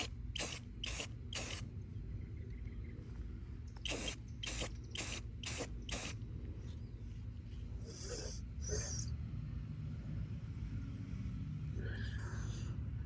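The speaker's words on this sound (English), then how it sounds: "on these two I'm just doing very light coats to avoid the running" Short bursts of an aerosol spray can applying light coats of paint to solar garden lights: a quick series of three hisses, a pause, then five more, followed by faint handling sounds.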